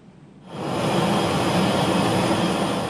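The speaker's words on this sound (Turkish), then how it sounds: "Uçak yardımları ulaştırmak üzere havalandı." A cargo plane takes off carrying aid: a sudden loud engine roar rises after a brief quiet start and holds as a broad, steady jet rumble.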